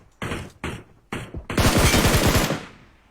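Gunfire in the mobile battle-royale game PUBG Mobile: three short loud bursts, then a longer rapid automatic volley of closely spaced shots, all near and with no talk over them.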